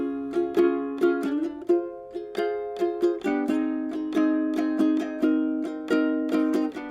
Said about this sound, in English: And when I play it with the chords, it sounds like this.